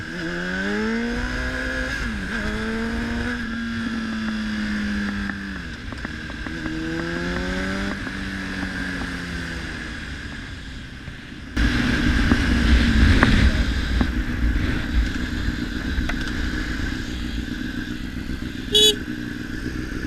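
A Honda CBR1000RR sport bike rides along, its engine note rising and falling through several throttle sweeps, then a louder, rougher stretch of wind and engine roar as speed builds, with a brief sharp clatter near the end.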